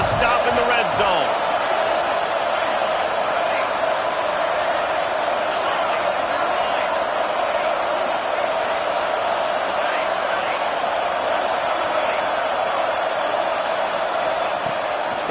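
Steady roar of a stadium crowd in a Madden American football video game, loud and continuous through the whole stretch as the defense tries for a red zone stop, with commentary over it.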